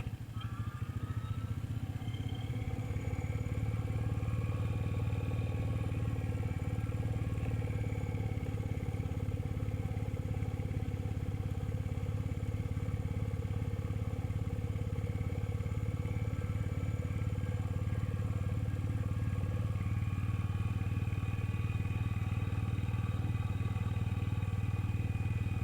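Royal Enfield Meteor motorcycle cruising along a country lane in the Dent valley, a steady, close single-cylinder engine thrum with rushing wind noise throughout, without speech.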